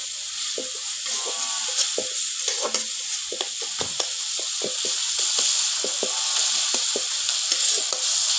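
Green bean pods with turmeric and salt fry in oil in a village kitchen pan, giving a steady hissing sizzle with repeated quick stirring clicks and scrapes close by, and no speech.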